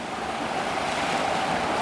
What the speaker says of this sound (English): You can hear the lapping waves on this rocky beach in Union, Washington.